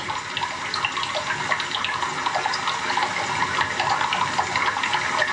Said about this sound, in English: It's a little river. It's like a small river.